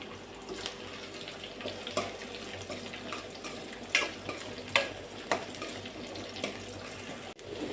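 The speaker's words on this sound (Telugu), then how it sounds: "అలానే మనం కచ్చా పచ్చి దంచుకున్న వెల్లుల్లి కూడా వేసుకోండి" Curry leaves and crushed raw garlic fry in a pan of oil for a Telugu tomato and chilli curry, giving a steady soft sizzle broken by scattered pops and the clack of a stirring spoon.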